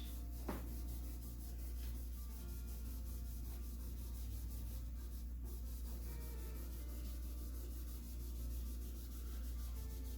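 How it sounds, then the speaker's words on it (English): Dirty acoustic guitar frets being rubbed clean: quiet, steady scrubbing friction close up, continuous and faint throughout, with no talking. "This is good to get all that junk off the frets."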